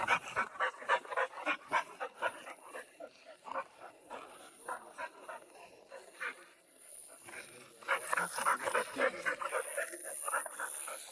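Hunting dog out in a night forest, panting rapidly and sniffing as it searches for a trail, with quick rhythmic breaths close by and a few soft whimpers.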